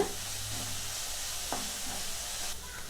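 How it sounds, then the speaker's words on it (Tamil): Ginger garlic paste and onions sauté in a clay pot, a steady close sizzle with a few stirring scrapes throughout. "1 டீஸ்பூன் இஞ்சி பூண்டு பேஸ்ட் சேர்த்துக்கோங்க. நல்லா வணக்கி விட்டுறலாம்"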